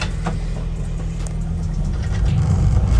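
A Toyota GS300 car drives around the block, its engine a steady low rumble heard from close by with road noise that grows slightly louder toward the end.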